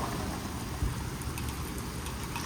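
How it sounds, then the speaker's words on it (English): Steady rain falls outdoors in a dense, even hiss that fills the short stretch without pause, close and continuous, with a single brief thump partway through and no talking. "It's raining."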